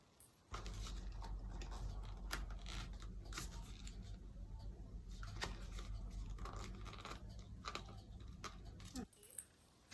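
Leather for a bag being cut along a marked line, heard as a run of short, close, crisp snips and rasping slices at irregular intervals, with a brief louder scrape near the end.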